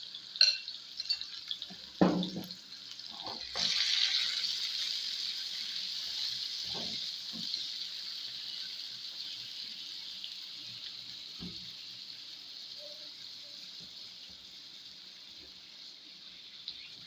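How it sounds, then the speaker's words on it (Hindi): Chicken coated in masala fries in hot oil for homemade shawarma. A few clattering knocks give way to a steady, close sizzling hiss that slowly fades, with no talking. "अब इसको हम अच्छी तरह फ्राई करेंगे"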